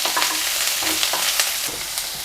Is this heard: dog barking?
no